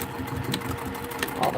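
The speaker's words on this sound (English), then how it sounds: "now I'm going to sew all the way around except for the bottom of the lining" Juki TL18 sewing machine stitching around a lining at a quarter-inch seam allowance, running with a steady, close mechanical hum and rapid needle clatter while a person talks over it.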